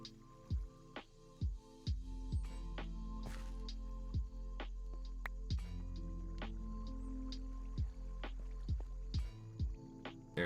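A mechanical press in a Minecraft Create mod compresses items with a series of soft, repeated squishing thumps, spaced irregularly over a low steady hum, quiet and without talk.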